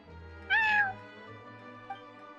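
A person gives a single drawn-out imitation of a cat's meow, clear and close, followed by quiet.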